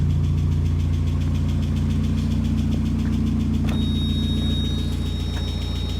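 A 1991 Mazda Miata engine, run again after sitting unused for 15 years, idles steadily with a low, even throb and faint knocking, close and continuous for the whole stretch, with no one talking.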